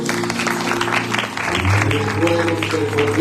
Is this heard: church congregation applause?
yes